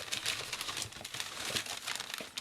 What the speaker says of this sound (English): All this paper's gotta be loud.